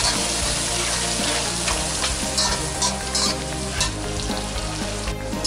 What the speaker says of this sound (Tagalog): piniprito ngayon itong baga para medyo maging toasted po siya ng konti